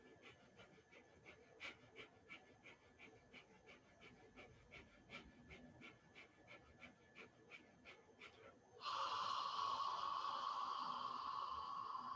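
Rapid breath of fire breathing exercise, a quick rhythmic series of faint sharp puffs through the nose, followed by a sudden loud steady hiss for the last few seconds.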